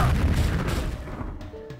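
A grenade blast in Jagged Alliance 2, a single heavy boom with a crashing burst up front that fades away over about a second and a half, with no talking.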